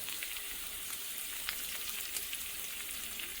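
A pan sautés with turmeric and salt, making a soft, continuous sizzle with light crackling pops, fairly quiet and close, with no voices over it.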